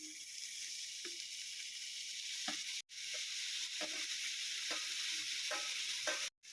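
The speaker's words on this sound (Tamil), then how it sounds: "இப்போ தக்காளி நல்லா வதங்கிடுச்சு." Tomatoes and onions with ginger-garlic paste sauté in a pan for a meal maker pulao, a steady close sizzle broken by repeated scraping stirs of a utensil, with two brief dropouts in the sound.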